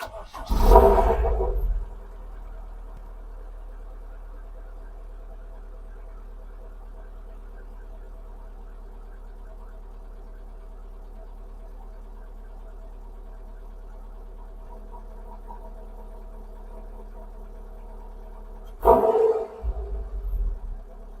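An MG TF engine, just repaired, cranks and fires into a loud start, then settles into a steady low idle, with a second burst of revving near the end.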